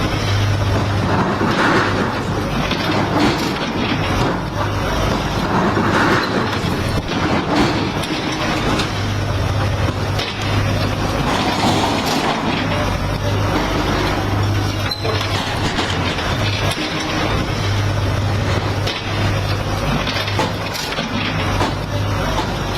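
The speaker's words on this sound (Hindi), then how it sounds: "तो यहां पर जबरदस्त बुलडोजर चल रहा है" A bulldozer at work demolishing illegal construction, heard as a continuous heavy mechanical rumble with a steady low engine hum, scraping and clattering bursts, and crowd-like background noise throughout.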